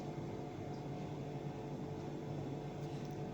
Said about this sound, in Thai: ปั่นจนเป็นน้ำนมนะครับ